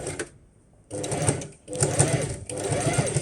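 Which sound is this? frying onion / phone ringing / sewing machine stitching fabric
sewing machine stitching fabric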